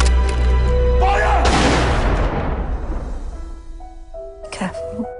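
A booming gunfire volley in a dramatic film trailer, shouted command before it, the blast erupting loud and close then decaying into a long rumbling tail under swelling orchestral music, with a second thumping burst near the end.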